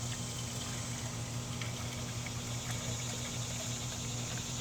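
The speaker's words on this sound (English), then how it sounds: "I'm just gonna go ahead and just put some water in here, and we'll see if it starts pouring out" Water running steadily into the coolant tank of a 2012 Mazda 3 under the hood, a continuous close hiss and trickle with a constant low hum beneath, no pauses throughout.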